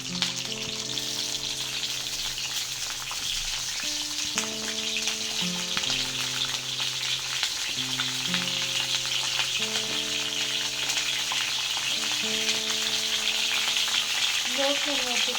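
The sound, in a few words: chopped brinjal frying in hot oil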